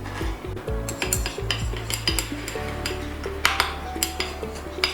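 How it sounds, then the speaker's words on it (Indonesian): Natural aromatherapy ingredients are stirred in a mixture, making a steady scraping swirl with frequent clinks of a utensil against the container. The sound runs continuously, close and fairly loud, with no voices. "Ini kita aduk."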